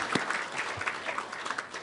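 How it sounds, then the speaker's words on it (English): Brief burst of audience applause at a ceremony honoring Native American graduating seniors, a dense wash of clapping under a faint murmur, lasting about two seconds. "We'll do an applause after everyone."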